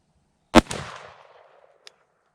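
A Benelli M1014 shotgun fires a single shot of Herter's 8 pellet buckshot outdoors at a 20-yard target, a loud sharp blast with a short echoing tail, followed by a faint click.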